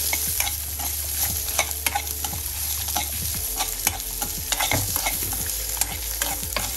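Grated radish and other ingredients sauté in a hot pan for a thogayal, sizzling steadily while a spoon scrapes and stirs with repeated sharp clinks and scrapes against the metal, close and clear with no talking.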